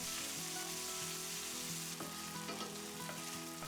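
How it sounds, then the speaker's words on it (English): Lean slow-cook stewing steak fries in hot oil in a pan, giving a steady, close sizzle with a few sharper crackles and spits, with no voices. "start frying your meat until it has some colour"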